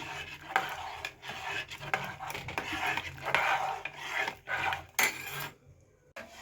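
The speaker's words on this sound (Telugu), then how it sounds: "ఇప్పుడు ఇది కొంచెం దగ్గర పడేంత వరకు కలుపుకుందాము." Ragi (finger millet) flour mixture is stirred in a pot as it thickens, giving soft, uneven scraping and rasping strokes with brief pauses, quiet and close.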